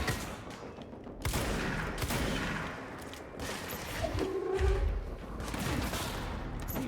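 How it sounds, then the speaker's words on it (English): Shotgun blasts in the video game Control, with several heavy booming shots spaced a second or two apart against a dense background of combat noise. The blasts are moderately loud and no one speaks. "Missed with a shotgun 2 times"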